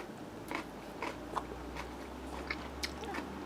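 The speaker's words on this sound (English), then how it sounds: "I'm chewing while I talk." Soft, irregular crunching bites and chewing of a sweet, easy-to-chew snack, close and fairly quiet, with a few sharper crisp clicks and no clear speech.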